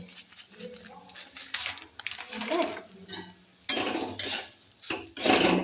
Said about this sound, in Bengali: নাড়াচাড়া করে ভালো করে নিতে হবে